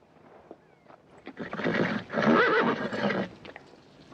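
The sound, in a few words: horse neighing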